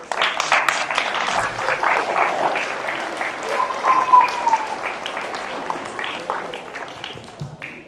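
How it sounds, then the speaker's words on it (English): A school audience at a Veterans Day assembly claps for a guest speaker, dense close applause that swells and holds for several seconds before thinning out toward the end. "Let's give another round of applause for Captain Raiden Amigo."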